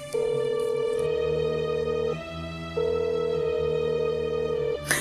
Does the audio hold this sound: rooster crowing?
no